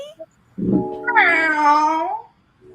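A cat lets out a single drawn-out, rising and falling meow, close and loud, lasting under two seconds in an otherwise quiet room.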